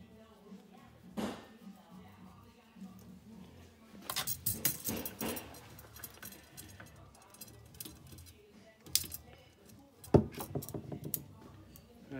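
A brake pipe tool cuts through a brake pipe, giving faint, close metallic clicks, scrapes and rattles in irregular bursts, with a few sharper taps over a quiet background.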